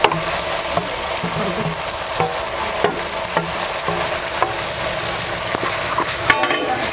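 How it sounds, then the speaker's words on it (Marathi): Masala fries in hot oil for chicken sukka, a loud, dense, continuous sizzle with occasional scrapes of a stirring spoon, heard close up with no talking. "आता हे तेल तापलेलं आहे ह्यात आता सगळं मसाला घालणार आहे मी आता हे चांगलं असं भाजून घ्यायचं"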